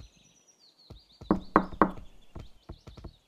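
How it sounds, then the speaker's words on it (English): Knocking on a door, a few quiet taps followed by three loud, close raps in quick succession and then a scattering of lighter knocks, with a faint high chirping tone in the background and no speech. "knock on his door"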